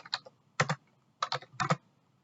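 Computer keyboard keys clatter close by in several quick bursts of two or three strokes, with brief pauses between them, at a clinical staff workstation. No one speaks.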